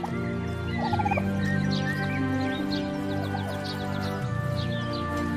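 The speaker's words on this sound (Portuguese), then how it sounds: "O Peru." Turkeys gobble repeatedly in bursts over a constant low hum, with a few higher bird chirps scattered through.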